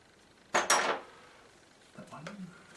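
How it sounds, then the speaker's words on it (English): A metal knife clatters sharply twice against a hard surface, close by, followed by a quieter scrape and tap. "Let's try using a knife."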